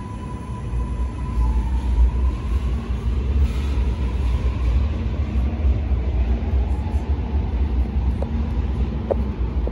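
A Sydney Metro train enters a platform, producing a loud, continuous low rumble with a faint rising whine and a couple of brief clicks, steady across the whole stretch with no talking.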